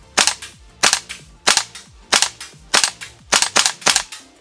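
A WE AK74 gas blowback airsoft rifle fires BBs: about nine sharp, close, snappy shots with a metallic clack, spaced at uneven intervals of roughly half a second, with no talk.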